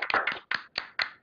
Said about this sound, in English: So can I have a round of applause for everybody involved in the support forum?